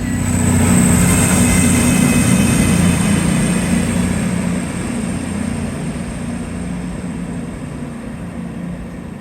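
A 10-coach passenger train arriving at a station rumbles loudly nearby with a steady high whine, the noise gradually easing as it slows.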